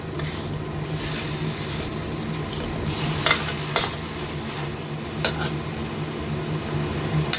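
Beef with morning glory and shrimp fat is stir-fried in a hot pan, with constant close sizzling and repeated scraping and tossing strokes throughout, and no one talking.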